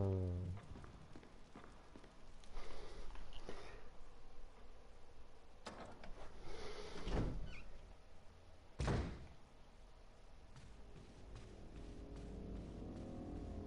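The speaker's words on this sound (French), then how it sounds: "on a des zombies qui essayent de rentrer par là-bas" Zombies try to break in through a door in Resident Evil HD Remaster on PS4: faint dull thumps and a couple of heavy bangs over low game ambience, with no speech.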